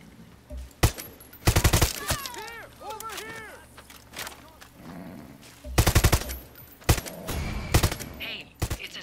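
A gun firing in Far Cry 6, several loud, tight bursts of rapid shots separated by quieter game sounds and bits of talk.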